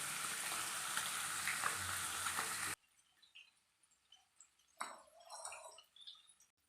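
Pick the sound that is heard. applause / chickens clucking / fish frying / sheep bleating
fish frying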